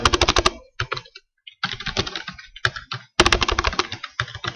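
Rapid bursts of typing on a computer keyboard while entering Visual Basic code, loud close-up clatter of keys in quick runs broken by short pauses.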